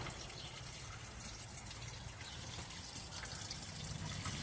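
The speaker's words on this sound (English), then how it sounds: "I got my fountain going." A homemade garden fountain runs outdoors, giving a steady, soft splashing and trickling of water that continues evenly throughout.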